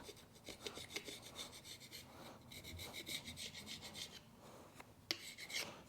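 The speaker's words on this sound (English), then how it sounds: "we can actually, with this, scrape it off and smooth it out just like that" A carbide scraper works over the mating surface of a 1UZ engine block with a steady, gritty rasping. The strokes repeat rhythmically up close at moderate loudness.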